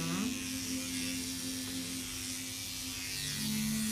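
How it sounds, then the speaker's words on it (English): A handheld microneedling device buzzes steadily throughout with a sharp electric whine that shifts pitch slightly at the start, close and alone, with no talking. "So this is the instrument that has the needles."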